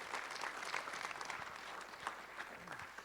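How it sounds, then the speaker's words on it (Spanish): A church congregation applauds, a faint, dense patter of many hands clapping at a distance for a few seconds. "Fuerte ese aplauso para el Señor."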